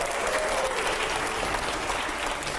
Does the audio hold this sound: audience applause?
yes